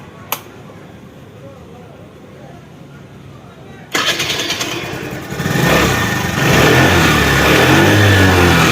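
A motorcycle fitted with a new power coil starts cleanly after a quiet stretch. The engine catches abruptly, settles into a close, loud idle, then rises as the throttle is blipped.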